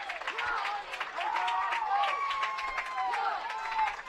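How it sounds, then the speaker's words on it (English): Crowd roars and cheers at a high school football game between Dos Palos and McLane, a broad swelling noise from the near-side stands, steady for several seconds. "That draws a big roar from the crowd on the near side"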